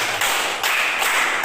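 A classroom group claps in a counted rhythm pattern, loud dense bursts of hands breaking at short intervals into separate clusters, with no talking over it.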